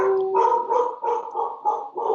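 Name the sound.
excited dog barking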